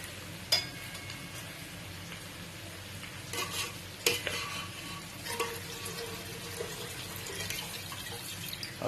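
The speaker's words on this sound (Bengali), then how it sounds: "এবার এর উপর একটু জল দেওয়া হবে।" Water is poured into a hot pot of mutton pulao in a home kitchen, giving a continuous splashing sizzle with a few clanks and scrapes of utensils against the pot.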